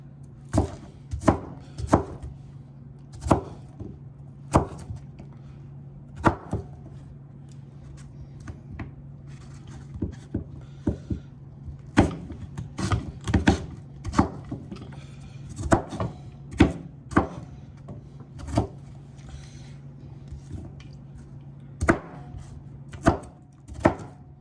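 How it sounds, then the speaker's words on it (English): A knife chops papaya and pineapple on a cutting board in irregular bursts of sharp, close thuds, some quick runs and some single strikes, with no talk over them. "So, all chopped up, ready to go."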